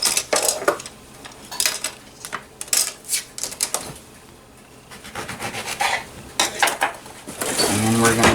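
A knife slices open a lemon, producing a series of close, crisp cutting and rubbing sounds in irregular bursts with short pauses between strokes.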